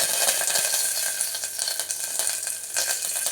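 Mustard seeds, cumin, a few black peppercorns, chillies and curry leaves sizzle in hot oil for rasam, giving a loud, continuous, crackling hiss with small pops, close up and without voices.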